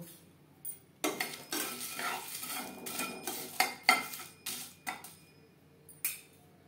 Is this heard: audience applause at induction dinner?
no